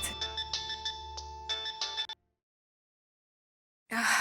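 A phone rings with an incoming call, a melodic ringtone pulsing in short repeated bursts for about two seconds, then silence before a brief louder sound at the end.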